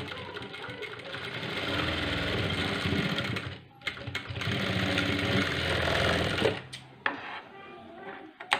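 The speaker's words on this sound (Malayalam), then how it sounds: "അപ്പോൾ രണ്ട് സൈഡും ഇതുപോലെ തയ്ച്ചെടുക്കുക." A sewing machine stitches the seams of a two-color blouse, a loud, close, continuous mechanical whir with short pauses and restarts toward the end.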